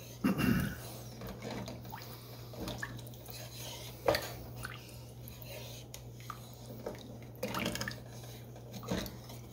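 A spoon stirs tomato rice soup in a pot and scrapes stuck rice and browned bits off the bottom, giving scattered clinks and scraping with liquid sloshing, close and fairly quiet.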